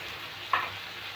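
Onions, tomatoes, soya chunks and dal fry with spices in a pan, making a soft, steady sizzle. A single brief scrape or clink of stirring cuts in partway through.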